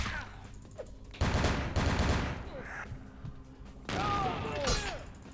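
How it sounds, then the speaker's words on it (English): Heavy gunfire, shotgun blasts among it, in the video game Vampire the Masquerade Bloodlines, several loud booming bursts in close succession over a busy combat soundscape, with no talking. "Yeah, the shotgun definitely hurts."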